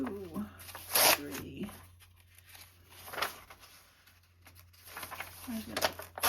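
Paper pages torn out of a Reader's Digest book, a few quick ripping bursts mixed with rustling and crinkling, close by, with a person talking quietly between tears.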